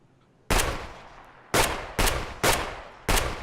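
Gunfire from shotgun rounds (buckshot or slugs) in the video game Escape From Tarkov: five loud, sharp shots with decaying tails, spaced irregularly about half a second to a second apart, with no talking.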